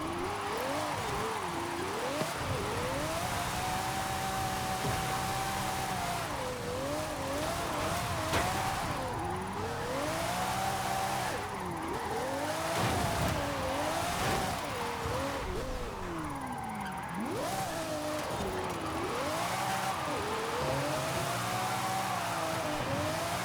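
A drift car in a racing video game holds a steady, high-revving engine drone for the whole stretch, its pitch rising and falling as it shifts and slides, with tyres scrubbing sideways underneath.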